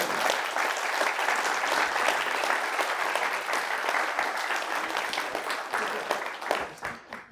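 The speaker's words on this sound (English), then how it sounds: "I hope you will just briefly applaud everyone else in the room except yourself" Sustained, dense applause fills a lecture hall as the audience claps steadily for several seconds, then thins into a few scattered claps at the end.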